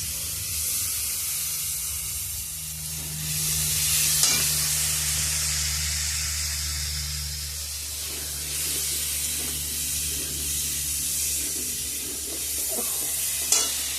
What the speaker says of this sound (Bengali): তো এইখানে আলুটা কষানো হয়ে গেছে